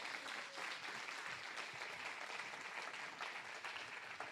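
A church congregation applauds, an even, steady patter of many hands heard at a distance and fairly faint throughout.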